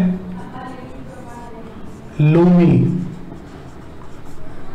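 Marker or chalk scratching on a classroom board, a few short strokes heard close, followed by a teacher speaking over the writing.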